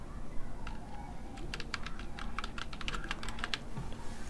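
Someone types a website address into a browser on a computer keyboard, a quick irregular run of clicky keystrokes close by over faint background hum.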